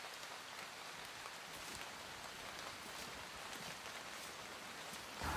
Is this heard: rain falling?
yes